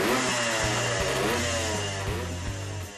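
A Bultaco motocross motorcycle engine runs close by, its loud, buzzy two-stroke tone holding steady with small rises and dips in pitch across the few seconds.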